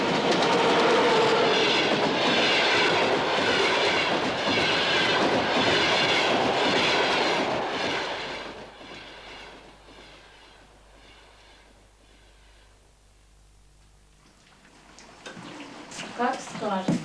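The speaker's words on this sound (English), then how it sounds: "The overnight train from Moscow to Kharkov will bring Alexander Denisovich Kravchenko" An overnight passenger train from Moscow to Kharkov rumbles along with loud rhythmic clickety-clack of wheels on rails, then fades to a quieter rolling hum with softer clatter, and someone speaks over the later part.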